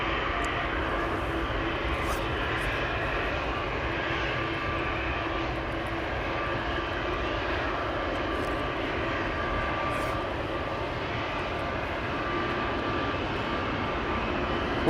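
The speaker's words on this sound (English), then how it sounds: "This is airplane inception with an A321neo creeping up behind an Embraer 190." Airbus A321neo taxiing behind an Embraer 190 at Amsterdam Schiphol, a steady droning jet engine hum with a faint whine, constant and moderately near throughout with no break.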